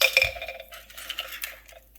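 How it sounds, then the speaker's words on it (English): Hard little clinks and clatters of brittle eggshell bits dropping into a plastic blender cup, a quick cluster at first, then scattered lighter taps. "I am going to put some eggshells in here and try to grind them up"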